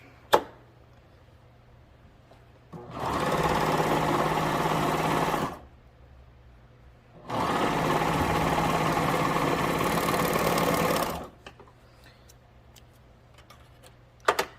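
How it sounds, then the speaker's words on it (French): An overlock serger stitches fabric for a soap mitt in two loud, steady whirring runs of about three and four seconds, separated by quiet pauses, with faint clicks at the start and end. "moi je le fais tout à la surjeteuse"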